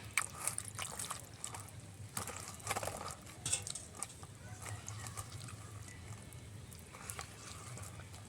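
Water trickles and splashes into a palm fruit pulp batter for malpua, a soft, light pouring sound with scattered bright clinks over low, steady kitchen background noise and no talk.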